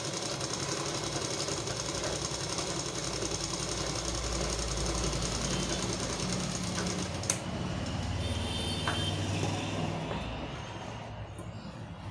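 A sewing machine runs steadily through repeated practice lines of stitching in a beginner tailoring lesson, its continuous mechanical whir holding for most of the stretch before easing slightly near the end.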